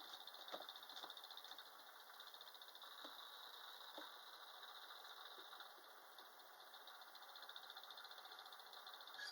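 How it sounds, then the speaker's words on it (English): Crickets chirp steadily outdoors in a continuous, high-pitched trill, faint and distant, with no voices. "I hear crickets."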